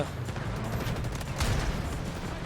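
Muffled, fairly faint volleys of gunfire rumble continuously in a Delta Force firefight, the shots blurred together as if from some distance.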